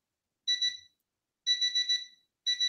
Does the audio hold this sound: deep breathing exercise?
no